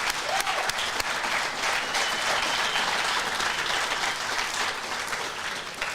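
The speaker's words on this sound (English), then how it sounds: "applause to everybody up there with the" Sustained audience applause fills an awards ceremony for a steel casting competition, a dense, steady wash of many hands clapping at even loudness for several seconds with no talk over it.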